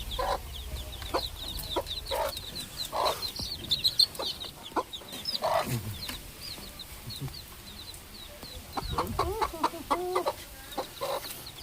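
Black and white naked-neck chicks cluck and peep in a yard, scattered sharp calls repeating near and far amid occasional handling noises and a brief voice.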